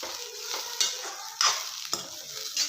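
Shredded cabbage stir-fried in a pan for North Karnataka style cabbage palya, a steady close sizzle broken by a few sharp scrapes of a spatula against the pan.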